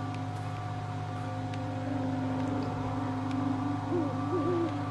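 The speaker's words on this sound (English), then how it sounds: "Oh, there's an owl over there." An owl in the video game Never Alone hoots in low, wavering calls over a constant droning hum of wind and ambience, growing slightly stronger toward the end; no one talks.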